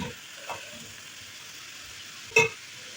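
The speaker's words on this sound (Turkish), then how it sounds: "Fasulyelerimizi de ilave ederek karıştırma işlemine devam edelim." Beans being stirred in a pot over a low steady sizzle, with a couple of brief scraping clinks.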